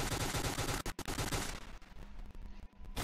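Dense, loud automatic gunfire from a FAMAS rifle in a zombie video game rattles continuously, then thins into scattered, quieter shots.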